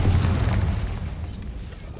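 Confringo fire spell blast in the Hogwarts Legacy video game, a loud booming burst at the start that rumbles and fades over two seconds, with a low sustained roar underneath.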